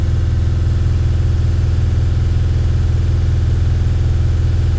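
A Mercedes T1N Sprinter diesel engine holds a steady 2500 RPM, its drone loud, close and continuous with an even low throb and no change in pitch, and no one speaking.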